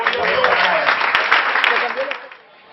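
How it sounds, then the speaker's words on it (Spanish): Broad, steady applause from a church youth anniversary congregation fills the clip at close range, thinning out toward the end. "¿Cuándo puedes dar un fuerte aplauso a Dios?"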